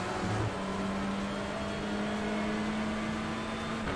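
Race car engine in iRacing at Daytona during the Roar Before the 24, a steady loud droning whine holding one pitch for about four seconds with no voices.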